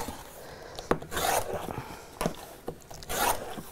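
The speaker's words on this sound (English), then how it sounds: "Cut a few more strips of that." Fabric strips are cut with a cutter that needs sharpening, giving short rasping, scraping strokes in several separate bursts, close and moderately quiet.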